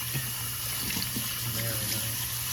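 Tap water runs steadily into a kitchen sink while mushrooms are rinsed for beef stroganoff, a continuous close splashing wash with faint clinks, no speech over it.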